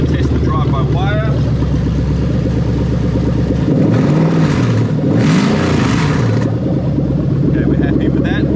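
Toyota UZ-FE V8 with VVT-i, its drive-by-wire throttle under test, runs at a loud steady idle and then revs up twice in quick succession before settling back, heard close with a voice faintly underneath.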